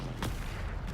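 A Bombarda blasting spell explosion in the Hogwarts Legacy video game, heard as a short, dense, booming burst that fills the moment with heavy rumble.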